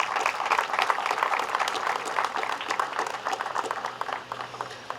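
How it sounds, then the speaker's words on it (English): Audience at a school graduation ceremony for the class of 2024 gives a round of applause, steady crowd clapping that holds throughout and eases slightly toward the end. "please, if you can indulge me, to give a round of applause for the vision, the passion, the courage of Mrs. Fatima Beina Musa"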